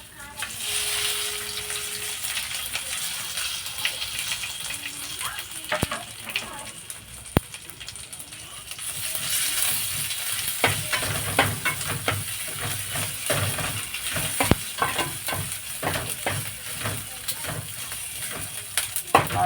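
Garlic, chillies, cumin and curry leaves frying in a pan for a tomato green chilli chutney, a steady sizzle and hiss with occasional stirring clatters that grow busier partway through.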